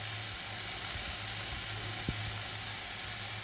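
Onions and spices with salt, turmeric and red chilli powder sizzle steadily in hot oil after a splash of water, while mourala fish charchari is being cooked; a close, continuous frying hiss with one brief sharp tap partway through, no voices.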